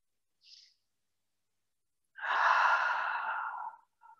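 A single long exhale during a yoga breath hold, a breathy whoosh of about a second and a half, close and alone, with a brief faint sound before it and after it in otherwise near silence.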